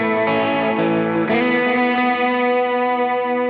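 Electric guitar played through a Boss GX-10 amp patch with reverb, a sustained distorted chord that is restruck midway, loud and dense with a dark tone and a washy reverb tail.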